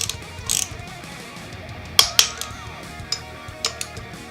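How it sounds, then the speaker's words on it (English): A ratchet torques the five bolts of a motorcycle big brake rotor in a star pattern, giving a few sharp, isolated metallic clicks and ticks spread across a few seconds with quiet between them, close by. "Torque the 5 bolts using a star pattern to between 16 and 24 foot-pounds."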